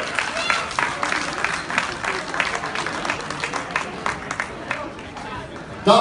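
Audience applause at a youth darts event, a steady wash of clapping from a crowd with scattered cheers and murmuring throughout, close and sustained, rising sharply at the very end.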